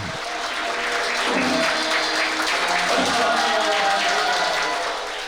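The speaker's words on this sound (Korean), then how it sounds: "평소와 달리 박수와 환호 소리로 떠들썩한 법당" Guests fill a Buddhist temple hall at Bongeunsa in Seoul with applause during a traditional temple-style wedding, sustained crowded clapping mixed with a few raised voices that holds steady throughout.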